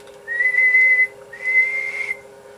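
Two sustained whistled notes go into a radio microphone and come back over a CB radio setup with a Blackcat JB-76B 200-amp two-tube base linear amplifier, each about a second long, steady and clear over a low hum.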